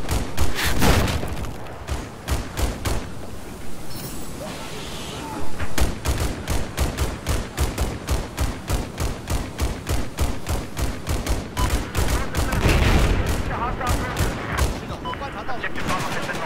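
Battlefield 4 gameplay with loud, close rapid gunfire in sustained rhythmic bursts, punctuated by heavy booms from rockets and explosions, while a voice talks intermittently over the combat.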